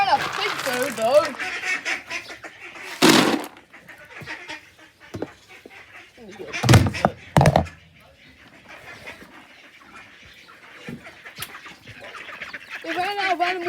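Farm birds, including ducks and chickens, call loudly in a few bursts of quacking and clucking with quieter stretches between, and people talk at the start and the end.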